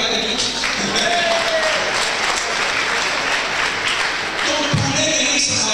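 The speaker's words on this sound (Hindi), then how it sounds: "तालियां बजा रहे हैं जी" Audience applause from a crowd at a live presentation, steady dense clapping filling the whole stretch with a brief rise near the end.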